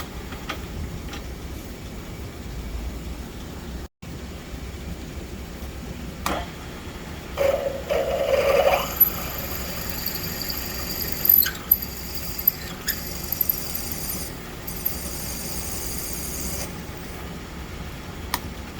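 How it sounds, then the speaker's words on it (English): A machine hums steadily while a 7/16 drill bit cuts a pilot hole into a metal pressure test plate for an S10 2.2L engine, giving off intermittent high-pitched squeals and scraping in short bursts. "I'll put a pilot hole in there."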